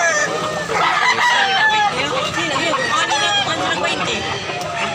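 Farm chickens cluck busily nearby while a rooster crows, overlapping calls forming a dense, lively chorus with a voice talking underneath.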